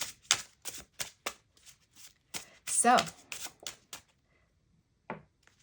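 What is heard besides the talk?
shuffling a deck of tarot cards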